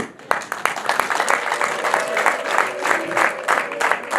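A crowd at a wedding celebration applauds steadily, with dense, continuous clapping throughout and voices mixed in.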